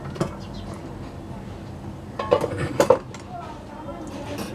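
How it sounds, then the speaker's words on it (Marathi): The metal lid of a pressure cooker holding milk-based kharvas is opened. A few sharp metallic clanks and clinks come through clearly in a short burst over a quiet kitchen background, with faint speech nearby. "आपण कुकर उघडून बघूया"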